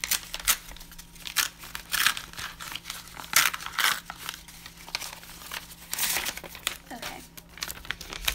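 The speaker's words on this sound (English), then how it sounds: "This one's envelope is really hard to open." Paper envelope from a fan letter torn and crinkled open by hand, with repeated bursts of ripping and rustling at close range over a faint steady hum.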